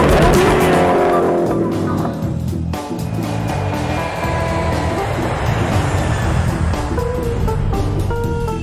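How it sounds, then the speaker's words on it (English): A Koenigsegg Agera R supercar with an 1140-horsepower engine driving hard on a racetrack, its engine roaring loud and steady throughout, with a hint of tire noise. "drive their Agera R to the limit on the racetrack and on their own private runway"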